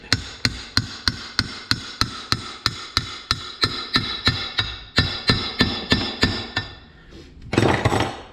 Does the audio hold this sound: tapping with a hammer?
yes